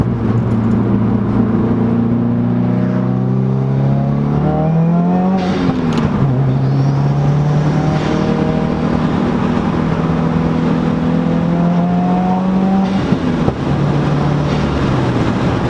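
A Stage 2 tuned 2015 Subaru WRX accelerates hard through a corner, its engine note rising in pitch, dipping as gears shift, then climbing again, loud and steady from inside the cabin with no talking.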